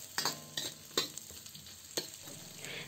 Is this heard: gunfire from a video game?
no